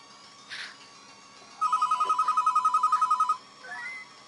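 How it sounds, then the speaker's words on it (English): A telephone rings once in a single loud, rapid trilling burst lasting under two seconds, close and clear against a quiet room, with faint soft noises before and after. "And that's the phone."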